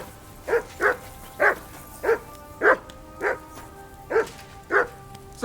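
A dog barks in the medieval open-world game Kingdom Come: Deliverance II: nine evenly spaced, mid-pitched barks at a steady rhythm, close and clear with no talk over them.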